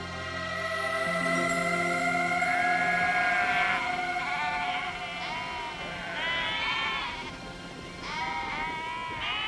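Several sheep on a sheep station bleat one after another, clear and fairly close, their wavering calls overlapping at intervals above a low background hum.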